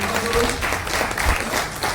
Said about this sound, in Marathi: एकदा जोरदार टाळ्या वाजवून त्यांचं स्वागत करा